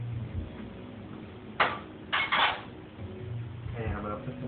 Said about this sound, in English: I'm going to take a baking pan,